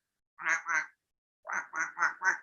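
A voice imitates a duck in a children's story, giving two nasal quacks, a pause, then four more in a quick rhythm, close and clear against silence.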